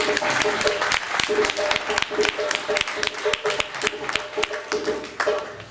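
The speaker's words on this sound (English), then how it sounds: "Let's give him another round of applause." Audience applause for a speaker at an event, a sparser crowd with distinct individual claps standing out from the wash, fairly close and lively, rising and dipping over several seconds.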